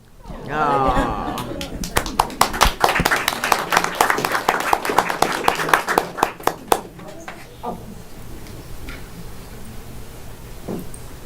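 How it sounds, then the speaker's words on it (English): Children clap their hands together in a quick, loosely rhythmic burst of sharp claps following singing voices, then the clapping thins out and fades into quieter room noise. "clap your hands"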